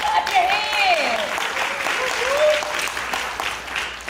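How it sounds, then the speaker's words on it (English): Conference audience clapping hands at a childcare business event, a fairly loud crowd of applause with a voice speaking over it throughout, rising and falling slightly across the few seconds. "Come on, clap your hands."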